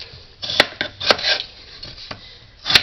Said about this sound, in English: cut them in like 6 pieces and put those in